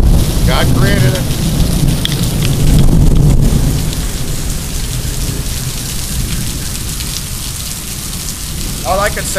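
Heavy rain pours steadily during a summer thunderstorm in a Minneapolis neighborhood, with deep rolling thunder rumbling through the hiss of the downpour, loud and continuous throughout.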